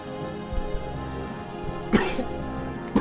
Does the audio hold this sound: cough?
yes